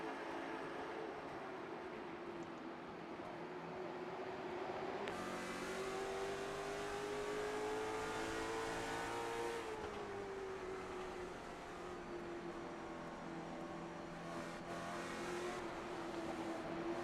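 Onboard race car engine during a lap at Thompson Speedway Motorsports Park in a pavement ignition series, a sustained loud engine drone rising and falling with shifts and throttle changes throughout, alone without voices.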